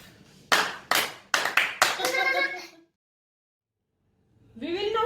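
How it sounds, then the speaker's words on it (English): Five sharp hand claps ring out close and loud, the last ones quicker, followed by a voice speaking after a short silence. "Let's clap."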